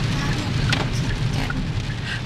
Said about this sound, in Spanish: Today is raining. Está lloviendo mucho.